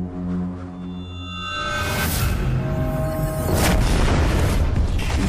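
A matchlock arquebus musket from the Graal Era game, a fuse-like whoosh building into a booming shot that carries a long, heavy rumbling tail, with a faint tonal hum under it.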